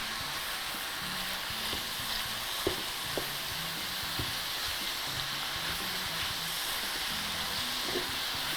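Steady sizzle of spinach wilting in a hot pan while being stirred for a quiche filling, a continuous hiss with a few soft knocks of the spoon and no voices.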